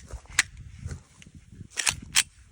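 A Smith & Wesson pistol fires .40 caliber rounds, a few sharp reports spaced irregularly across a couple of seconds, fairly distant and thin, with no talking.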